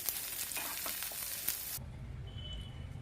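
Sweet corn fries in ghee in a pan, a bright crackling sizzle that cuts off abruptly partway through, leaving a faint low hum.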